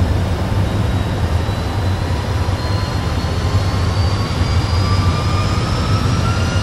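Aircraft jet engines spool up to takeoff thrust: a loud, steady roar fills the cabin while thin whining tones climb gradually in pitch throughout.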